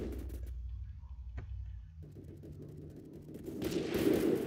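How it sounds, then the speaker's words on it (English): Gunfire in the Phantom Forces video game: a sharp single shot cracks out, then a distant rattle and a louder burst of firing swells toward the end, with no speech. "They're shooting at me."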